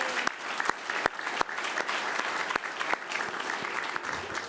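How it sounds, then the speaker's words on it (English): Audience applause at a government partnership announcement on water infrastructure, a steady wash of many hands clapping for several seconds at moderate distance, with a few sharper individual claps standing out. "Let's give her a round of applause."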